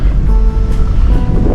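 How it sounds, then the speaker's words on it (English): Strong wind roars across the microphone on an exposed hilltop along the Tasmanian Trail, a loud, continuous buffeting rush with gusty low rumble and no voices. "It is really windy up here to the point it's blowing me off the road."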